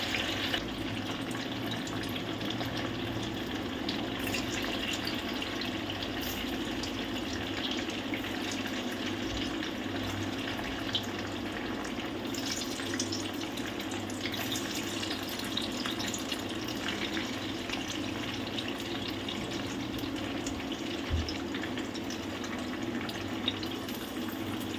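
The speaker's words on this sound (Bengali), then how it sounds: "আমরা পনিরগুলো হালকা হালকা ব্রাউন কালার যতক্ষণ না হচ্ছে আমরা ভাজতে থাকবো" Cubes of paneer fry in oil over medium gas heat, giving a steady, even sizzle that runs unbroken throughout at moderate loudness with no talking.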